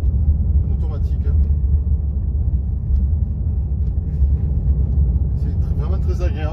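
A Mercedes-AMG C63 S coupe cruises gently in comfort mode with an automatic gearbox, giving a steady low engine and road rumble inside the cabin, with faint voices now and then.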